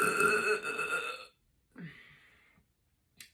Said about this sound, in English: I think I'm burped out.